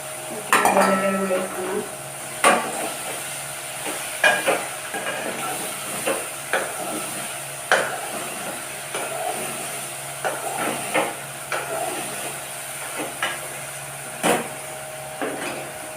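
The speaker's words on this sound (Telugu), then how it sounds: "సో అబ్బాయితే కొంచెం బెండకాయలు ఫ్రై అవ్వనిద్దాం" Okra (ladies' finger) cooks in a pan in a home kitchen, with a low steady hiss under repeated metallic scrapes and clinks of a spatula, spaced irregularly and fairly close.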